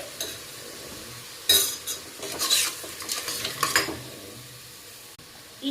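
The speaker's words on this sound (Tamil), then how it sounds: "மட்டனை நல்லா எண்ணெயில் கடுகு இதெல்லாம் போட்டுட்டு நல்லா வணக்கிட்டு" Mutton fries in hot oil with mustard seeds while a utensil stirs it through the pan, giving steady close sizzling broken by scraping and clinking strokes, with no talking.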